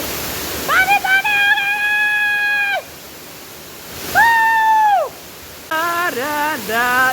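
A waterfall gives a constant rushing hiss in the background, mostly covered by loud voices calling out in long, sustained tones.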